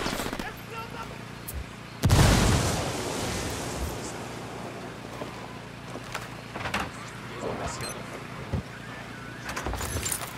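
A grenade goes off in the Ghost Recon Wildlands video game: one loud, close blast about two seconds in, then a low rumbling ambience broken by scattered smaller pops and thuds.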